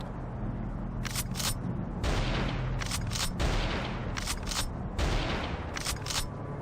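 Gunshots fired from a window in the video game Atropos Mandate, a series of sharp, bright cracks in pairs and small groups over a steady low rumbling background, with no talking.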